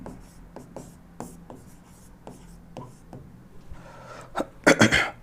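Chalk or marker strokes on a board during a coordinate geometry lesson: a series of sharp, evenly spaced taps and short scratches, ending in a louder flurry of quick strokes, with a voice briefly present.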